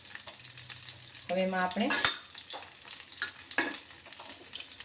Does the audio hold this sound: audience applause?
no